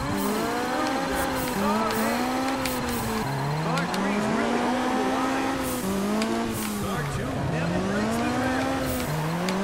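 Supercar drifting in the racing game Juiced 2: a loud, steady engine with wavering pitch as the car slides, and tires squealing through repeated drifts.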